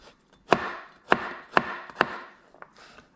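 A knife slices roast red pork on a cutting board in four sharp, evenly spaced thunks, each about half a second apart, followed by a couple of softer taps, with no voices.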